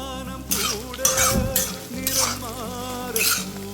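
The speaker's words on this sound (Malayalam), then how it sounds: "വഴന്ന് വന്നുകൊണ്ടിരിക്കുന്നേ നല്ലതായിട്ട് മൊരിയിച്ചെടുക്കണം" Whole coriander seeds, curry leaves and spices sautéing in oil for a Kerala-style papaya curry, with steady sizzling broken by several bursts of scraping and stirring against the pan, close and fairly loud.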